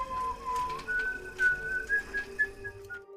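Someone whistles a short, wavering melody nearby, the tune rising gradually in pitch, with no talking.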